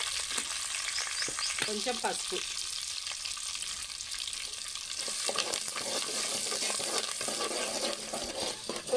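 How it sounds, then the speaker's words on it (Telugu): Tempering of dried red chilies, curry leaves, asafoetida and turmeric frying in hot oil in a pan for cucumber pickle, a steady crackling sizzle with faint spattering pops throughout, close up, while a voice briefly speaks. "పోపు వేగిపోయింది"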